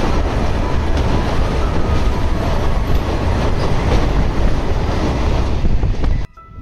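The 15961 Kamrup Express rolls into Rangiya Junction in Assam, a loud, continuous rumble and rattle of wheels and carriages heard from on board, steady throughout before cutting off abruptly near the end.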